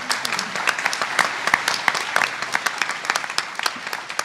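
An audience applauding, many hands clapping in a steady, fairly loud burst with distinct individual claps.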